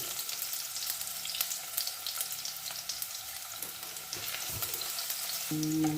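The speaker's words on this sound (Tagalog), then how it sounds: "bawang. Ipa-brown natin." Garlic browning in a frying pan, a steady close sizzle and crackle of hot oil with occasional stirring scrapes.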